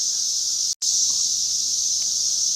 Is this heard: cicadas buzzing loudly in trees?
yes